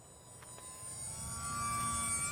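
A small E-flite J-3 Cub UMX remote-control plane flies overhead with a thin, steady electric motor whine that rises gradually in loudness, with no talking.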